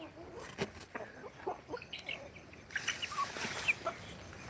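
Free-range desi hens on a farm cluck intermittently nearby, then a denser, higher chorus of bird calls swells in the second half, with no talking over it.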